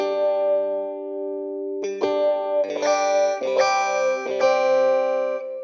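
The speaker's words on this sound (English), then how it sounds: "As you can hear, the wah is responding to my velocity. So the harder I press, the harder I hit the keys, the more it activates that wah." Funk keyboard line played through a velocity-responsive wah and a Twin Reverb amp with light reverb: sustained chord, then punchy stabbed chords whose wah sweep opens on harder hits, loud and close with no talking.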